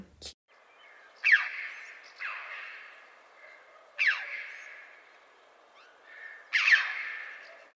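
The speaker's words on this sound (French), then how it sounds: "Et on a le crave à bec rouge" A red-billed chough calls alone, four loud harsh downslurred cries spaced a couple of seconds apart, each trailing off into a rasp, with quiet between them.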